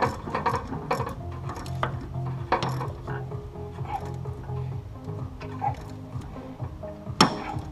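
A ratchet clicks repeatedly while a steering keeper bolt on a Jeep steering column is tightened, short uneven bursts of close, crisp clicking with a sharper snap near the end.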